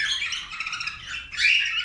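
Canaries moulting in a cage give off a bright, close run of squawks and chirps, with a louder burst of calls near the end.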